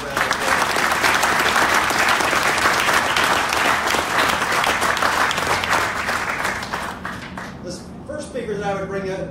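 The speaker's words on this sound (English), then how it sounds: "Please, let's give all of our dignitaries a great big round of applause." A large crowd at a seed company's 125th anniversary celebration in Oklahoma gives sustained, dense applause for about eight seconds, then it thins out as a voice starts speaking near the end.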